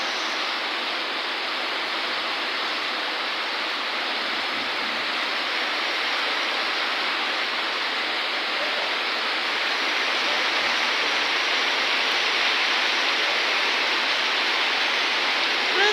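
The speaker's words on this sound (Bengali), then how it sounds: "প্রচুর বৃষ্টি হচ্ছে" Heavy rain pounds a tin roof, a dense, steady, loud hiss that holds without a break for the whole stretch, with no voices over it.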